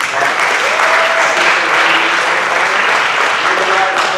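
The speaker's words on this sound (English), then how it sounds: "Let's all give Brandon a big round of applause." Loud, dense applause from a church congregation during a Sunday service, steady and sustained throughout without a break.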